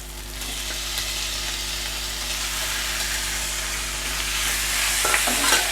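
Chicken pieces frying in a pan with sautéed ginger, garlic and onion for a chicken roast, giving a steady broad sizzle with occasional stirring clinks toward the end and no talk.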